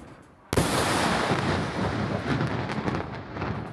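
Massive explosion in Lebanon, replayed from footage: a sudden loud blast bursts in after a brief quiet and rolls on as a sustained, rumbling shock wave roar that slowly fades without ending.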